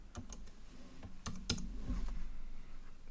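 Quick bursts of keystrokes clatter on a computer keyboard, close and fairly crisp, with a few louder taps scattered across a soft room hum and no speech.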